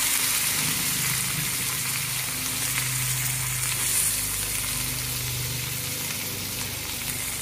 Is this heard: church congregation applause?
no